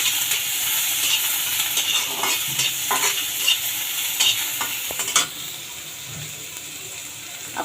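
Shrimp and water lily stems, with onion and green chillies, sizzle and fry in a pan while being stirred, the steady hiss punctuated by scraping and clinks of the spatula, with no talk.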